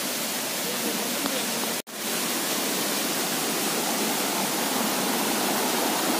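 Steady rush of hot spring water flowing at a mountain shelter on Mount Gede, a constant broadband hiss that fills the whole stretch, with one brief dropout partway through.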